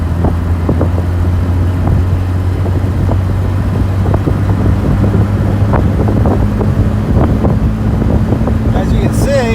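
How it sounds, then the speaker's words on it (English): Steady, close engine drone of an automatic Jaguar E-Type pulling up a highway on-ramp, with wind buffeting and road rumble throughout and a low, constant hum underneath. "Now we're accelerating up the on-ramp."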